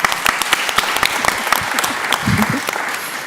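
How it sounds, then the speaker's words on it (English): Applause from an audience at a community summit, with distinct sharp claps and scattered cheering voices breaking in partway through. "We can clap for that."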